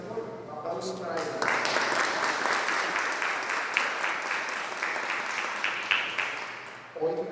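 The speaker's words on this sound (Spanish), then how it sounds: "Un aplauso para él." An audience at a book presentation event applauds a guest director, steady clapping filling the room for several seconds before fading out near the end.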